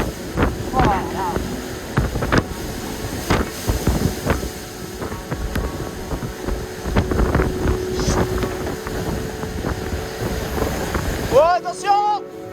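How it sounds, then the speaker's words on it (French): Heavy wind of over 50 knots roars over the microphone amid crashing water and racing sailboat noise at sea, with a voice calling out near the end. "L'état de la mer, les amis! Regardez, on a plus de 50 nœuds de vent!"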